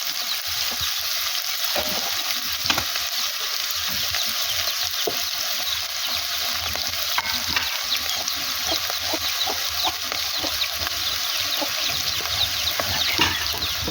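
Large onions and a kilo of country chicken meat frying in three spoons of oil, a continuous dense sizzle with small crackles and occasional stirring scrapes, loud and close throughout.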